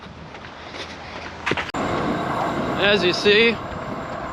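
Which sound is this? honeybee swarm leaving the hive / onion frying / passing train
passing train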